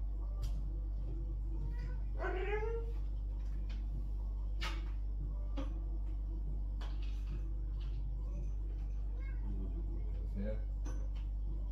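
A cat meows a few times, rising and wavering, over a steady low hum with scattered small clicks and knocks in a quiet room.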